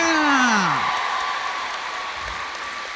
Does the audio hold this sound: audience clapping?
yes